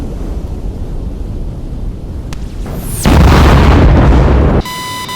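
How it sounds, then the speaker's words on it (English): In the DCS A-10C flight simulator, Maverick missiles launch and explode: a quiet engine drone swells into a loud, roaring burst of rushing noise that cuts off abruptly. "there are several missiles that are being shot at towards the enemy. Several of these Mavericks"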